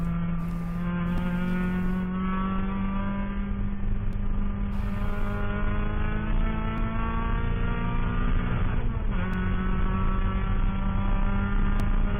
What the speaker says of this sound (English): I'm listening to these engine noises at the volume I like listening to them